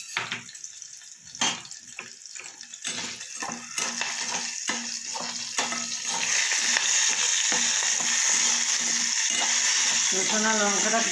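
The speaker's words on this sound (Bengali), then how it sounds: "রসুন আর লঙ্কাটা কিছুটা ভাজা ভাজা হয়ে গেলে" Garlic and green chilies with salt and a pinch of turmeric frying in a pan, a steady close sizzle that grows louder partway through, with stirring and clatter on top.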